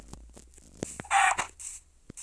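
Video game chicken from a Minecraft-style world, giving short clucking calls in a quick burst, close and fairly loud with clicks around them.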